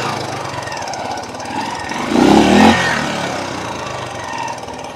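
A 1985 Honda trail motorcycle with a single-shock rear suspension revs hard while being ridden, a loud rough engine drone swelling to a brief high-throttle burst midway before easing back to a steady run.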